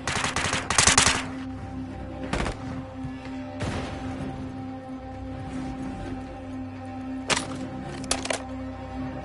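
Rapid bursts of automatic gunfire crack out in Warzone, close and loud in short clusters, with single sharp shots in between over a low background hum.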